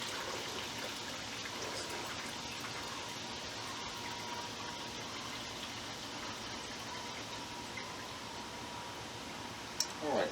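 Cooking juice from a Boston butt done on a grill dome pours into a fat separator as a steady, soft trickle for about ten seconds, with a small clink near the end.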